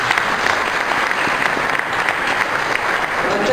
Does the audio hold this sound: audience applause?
yes